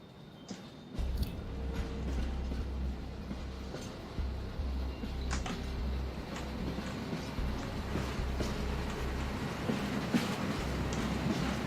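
A train rolls past in Mumbai in the video game Hitman 2, a steady low rumble with rhythmic wheel clatter and faint squeals under ambient city noise, heard without talk.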